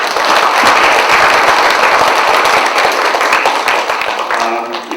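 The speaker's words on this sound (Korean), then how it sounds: "오늘 이 취업 캠프에 상당히 고생을 많이 하신 팀장님 그리고 우리 직원분들 한번 박수 한번 보냅시다" Applause from a Korean employment camp audience for the team leader and staff, a steady, dense crowd of clapping hands lasting throughout, loud and close, with no talk over it.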